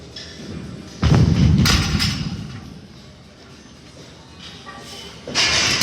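A heavy barbell loaded to 435 pounds drops to the floor during deadlift reps, landing with a deep thud, then a rumbling fade, then a second impact a few seconds later.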